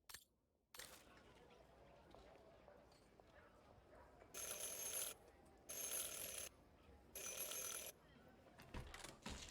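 A shop doorbell rung at an antique shop in Syberia, three bright electric rings in quick succession, each about a second long, after a quiet room tone with soft footsteps.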